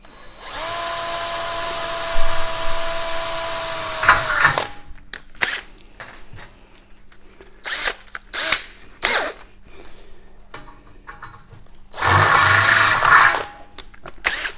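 A power drill bores 3mm and 6mm holes in dot-punched steel trunking wedged on a block of wood: two long, loud whining runs, one at the start and one near the end, separated by quieter clanks and handling noises.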